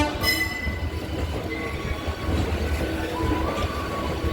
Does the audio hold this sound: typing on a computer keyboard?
no